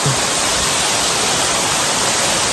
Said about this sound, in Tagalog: Medyo mahina ho yung patak ng tubig ngayon.